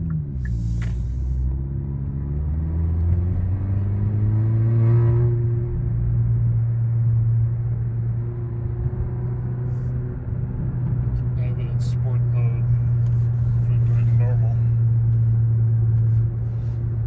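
A Kia K5 GT-Line engine fitted with a custom airbox revs up from idle to a steady deep drone that holds for many seconds, heard from inside the car.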